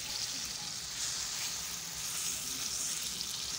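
Batter for a flatbread made with winter vegetables, poured onto a pan wiped with white oil, sizzles steadily and close with a bright, even hiss that never lets up.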